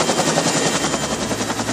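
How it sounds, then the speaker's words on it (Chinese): Airborne Service Corps rescue helicopter flying to a mountain school playground, a loud, fast rotor chop pulsing evenly throughout the short span. "直升机飞到海拔1000多公尺的仁爱乡翠峦国小操场"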